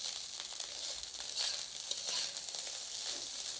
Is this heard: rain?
no